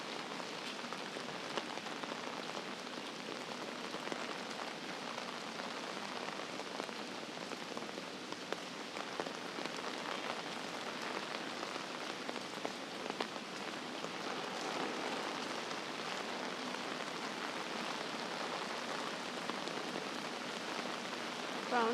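Heavy rain pours onto the streets of Geylang, Singapore, a dense, continuous hiss of drops hitting pavement and puddles, steady and loud throughout with no voices.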